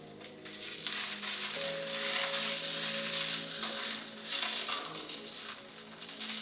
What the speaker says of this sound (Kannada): ಹುಣಸೆಹಣ್ಣು ಹಾಕಿ ಮತ್ತೆ ಬಾಡಿಸ್ಕೊಬೇಕು.